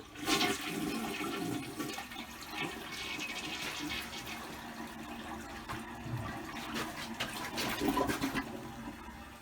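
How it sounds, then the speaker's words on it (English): A toilet flushes in a jailhouse bathroom under renovation, a loud rushing, gurgling flow of water that continues steadily for several seconds, with no talking. "flush it, Donnie"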